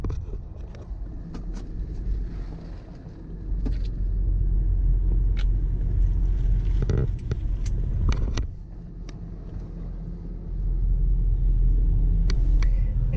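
An Infiniti QX56 SUV with a self-steering fault and high engine revs cruises on the freeway, a loud steady low road rumble from inside the cabin with brief knocks and a surge in volume partway through.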